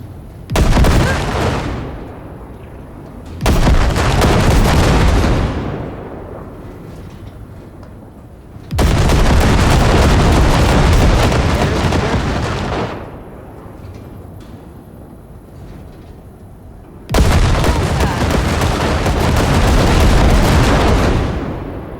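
Sustained heavy gunfire blasting wrecks in Cyberpunk 2077, four long roaring bursts of loud booming fire separated by quieter gaps, close and dense, with no talk over it.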